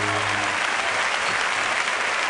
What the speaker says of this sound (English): Give Jonathan a big round of applause.